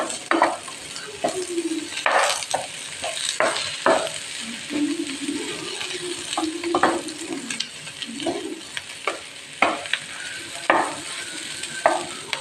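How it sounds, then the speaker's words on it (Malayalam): A spoon stirs liver fry with curry leaves in a hot pan, scraping and clinking against the metal in irregular strokes over a steady close sizzle, with no talking. "ഇച്ചിരി കറിവേപ്പിലയും കൂടി ഇട്ട് കൊടുക്കാം ഒന്നും കൂടി മിക്സ് ചെയ്യാം"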